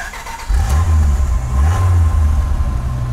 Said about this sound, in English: I'm gonna start it up right now,